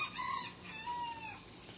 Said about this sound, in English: here's some ducks.